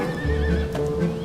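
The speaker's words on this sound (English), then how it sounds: "She plays recorded horse talk and observes the response." A recorded horse neigh is played back to horses in a behavioural experiment. One loud, close whinny with a wavering pitch is heard over faint clip-clopping.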